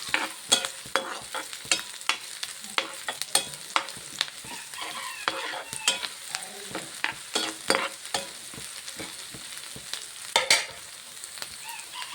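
Beef liver roasting and frying in a pan with onions, a steady sizzle punctuated by frequent sharp scrapes and clicks of stirring, close and fairly loud throughout.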